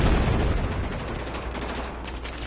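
Continuous gunfire in Battlefield 4 during a Rush clan match: dense, steady automatic shooting and rumbling battle noise, loud and constant throughout, with no pauses and no voices.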